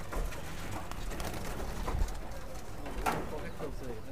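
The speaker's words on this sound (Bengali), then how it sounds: "এবার আমি কিছু পায়রা ছাড়ছি, আমার লফটে সিস্টেম বা কিভাবে আমরা পায়রা ছাড়া হয় সেটা দেখানোর জন্য" Madrasi highflyer pigeons at a loft coo softly as they are released, faint against low rustling background noise, with a couple of brief knocks.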